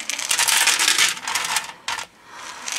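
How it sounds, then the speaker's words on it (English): Milk and semi-sweet chocolate chips scattered onto a foil-lined baking sheet, giving dense, close rattling patter in bursts with a short pause before more chips land. "I'm going to sprinkle my chocolate chips"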